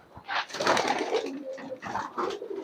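Racer pigeons cooing together in a loft, several close, throaty coos overlapping in bursts across the whole stretch.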